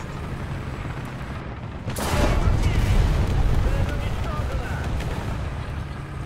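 Tank gunfire in a T-55AMD-1 video game session, a single heavy boom followed by a long rumbling roar that stays loud, set over constant engine and battle noise.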